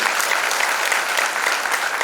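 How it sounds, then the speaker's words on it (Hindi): An audience at a regional youth contemplation camp at Shantikunj applauds loudly, dense sustained clapping from many hands with no pauses and no talk over it. "जोरदार ताली बजाइए अपनी लिए"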